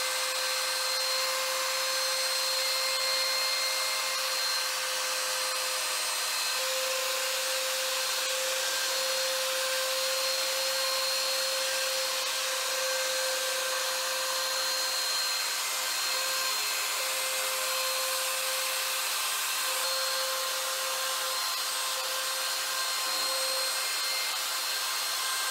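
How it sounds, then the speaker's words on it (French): A wood router trims down a plate so it sits level with a workbench board, giving a steady, loud high-pitched whine that holds constant throughout, close up and alone without talk. "Je vais devoir à la défonceuse enlever l'épaisseur de la plaque de façon à ce que la plaque soit au même niveau que la planche de l'établi."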